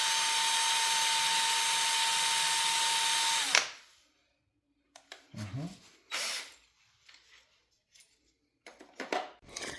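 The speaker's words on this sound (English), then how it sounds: "I'm trying to drill this out with my kit" A loud, steady power drill whines for a few seconds drilling metal on a Mini Cooper during water pump replacement, then cuts off, followed by scattered clunks and handling noises.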